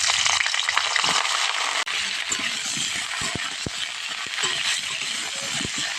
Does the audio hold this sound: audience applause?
no